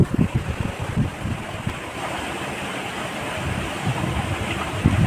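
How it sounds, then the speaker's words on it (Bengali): Rushing water of a waterfall dropping down a mountainside in Meghalaya, India, heard as a steady broadband roar with wind buffeting the microphone throughout. "এই জায়গা থেকে ঝর্ণাটা একদম নিচে নেমে গেছে।"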